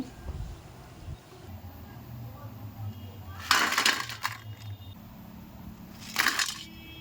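A crispy fried wheat-flour snack snapped apart in two short, bright crunching bursts, close and fairly loud, with a low voice murmuring faintly underneath.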